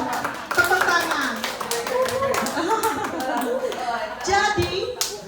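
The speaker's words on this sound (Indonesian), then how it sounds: "Ya, oke, tepuk tangan dong, tepuk tangan." A group claps along in quick, uneven bursts while voices, including children's, talk over the clapping at a church gathering.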